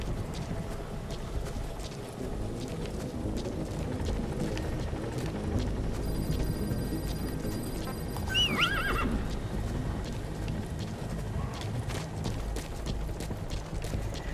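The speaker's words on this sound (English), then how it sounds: "They don't care about the horse." Horse neighing and trotting hooves in the video game Metal Gear Solid V: steady clip-clop footfalls throughout, with a loud whinny rising midway, over faint game background sounds.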